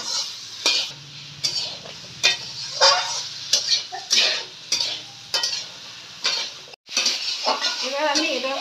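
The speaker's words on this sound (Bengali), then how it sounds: "এবার ভালো করে কষিয়ে নেব।" Fried cauliflower is tossed in spice paste with a splash of water in a pan, a spatula scraping and clinking in close rhythmic strokes over a light sizzle.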